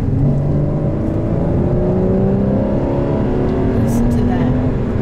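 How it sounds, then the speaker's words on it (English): A naturally aspirated Porsche Cayman's engine and exhaust pull hard under acceleration, a loud, close, rising drone with climbing harmonics throughout. "Listen to that pickup. Listen to that exhaust."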